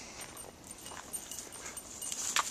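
Dogs whimpering and whining in short, soft yelps during a hike through the woods of Forest Park, fairly near, with faint outdoor background and no speech.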